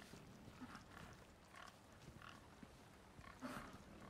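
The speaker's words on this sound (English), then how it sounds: "Pig noises intensify." Faint pig grunts and snorts in Resident Evil 4 Remake, a few short quiet oinks scattered over a few seconds against low background ambience.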